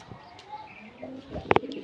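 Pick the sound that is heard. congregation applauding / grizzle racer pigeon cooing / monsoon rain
grizzle racer pigeon cooing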